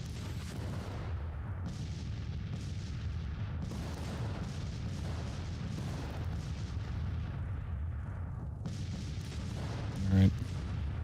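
Long-range artillery fire in Grand Tactician: The Civil War comes as a dense, continuous rumble of distant booms and battle noise with a louder thud near the end, while a voice speaks over it.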